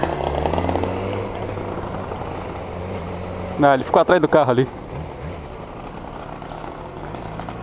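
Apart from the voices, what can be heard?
two-stroke engine of a motorized bicycle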